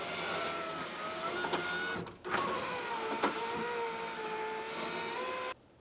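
Rear power window motor on a Mercury Grand Marquis runs close up, a steady electric whine with shifting pitch that breaks briefly near the middle, then continues before stopping abruptly near the end.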